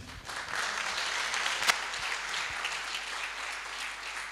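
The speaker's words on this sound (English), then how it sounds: "by the way, it's okay to clap" An audience at a leadership summit conversation claps steadily for several seconds, a broad, even wash of applause with one sharper clap standing out midway and no speech on top.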